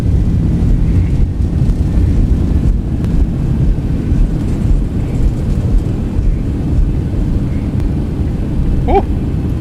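Boeing 737 thrust reversers roaring on the landing rollout in X-Plane 12, a steady loud low rumble of engine and wind noise with a brief higher tone near the end.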